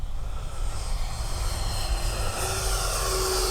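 Freewing 70mm Me 262 RC jet on its takeoff run, a steady loud electric ducted-fan whine and rushing roar close by, holding level throughout with no talk.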